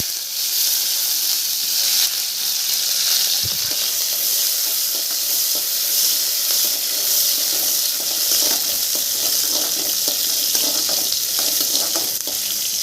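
Small onions sautéing in hot oil with dried red chillies and curry leaves for a buttermilk curry, a constant bright sizzle with faint scraping of stirring underneath, close and steady with no talk.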